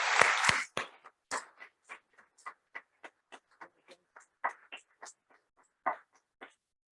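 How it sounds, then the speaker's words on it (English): Applause for Ethan from a small audience: a short burst of clapping at first, then sparse, scattered handclaps that thin out over several seconds in a quiet room. "let's give Ethan a round of applause"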